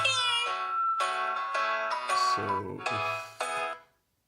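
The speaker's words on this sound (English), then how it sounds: "So if you lose your phone starts this melody which shows where it is" The find-phone melody of a Huawei TalkBand B2 rings out as a bright electronic tune of short, evenly spaced tones, about eight notes over four seconds, clear and close before stopping; no talk over it.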